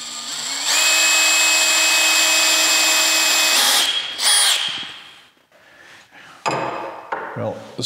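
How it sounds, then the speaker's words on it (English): A power drill drives screws into a door hinge while a Victorian door is hung, one long steady whine that cuts off, followed by short bursts and handling knocks. "I'm using the drill, I can't feel what's happening, and I might overdrive it."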